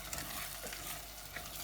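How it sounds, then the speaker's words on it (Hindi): A spoon works spices through lamb curry in a pan, producing a brief, close scrape over a continuous gentle sizzle. "और इसको अच्छी तरह से हिला लेना है ताकि सारे मसाले अंदर मिक्स हो जाए हमारे गोश्त के सालन में"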